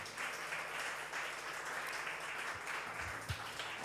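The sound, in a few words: congregation clapping loudly in praise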